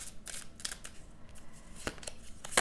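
Tarot cards shuffled by hand at a table, a run of soft crisp riffling snaps and flicks at an uneven rhythm, close and fairly quiet with no talking.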